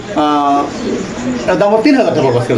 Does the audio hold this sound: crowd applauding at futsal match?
no